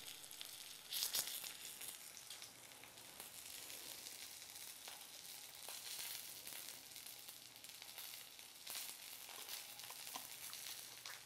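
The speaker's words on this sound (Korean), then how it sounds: "이렇게 해서 앞뒤를 노릇노릇하게 한번 지져주세요." Food pan-frying in hot oil until golden on both sides, giving a steady close sizzle and crackle throughout with a few louder spits, no talking.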